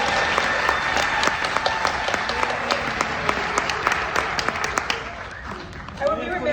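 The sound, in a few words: audience applause at a film festival opening night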